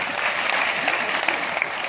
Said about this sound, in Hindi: जोरदार तालियां बजा लीजिए अपने लिए